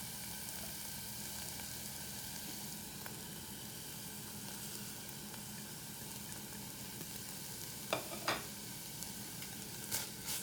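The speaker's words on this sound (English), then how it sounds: "And I'll continue frying for another 30 seconds." Dry spices sizzle steadily in a hot pan for a lentil dumpling curry, a soft continuous hiss with a few light clinks of stirring near the end.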